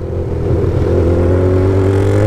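A Honda CB1000 motorcycle with a straight exhaust pipe runs close and loud, its engine note climbing in a continuous rev with a rough, clattering texture.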